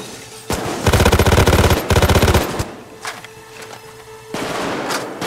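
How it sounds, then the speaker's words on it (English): A minigun fires in the video game Payday 2, two loud, dense bursts of rapid gunfire a second apart, followed by scattered shots and game noise. "We'll steal with a minigun."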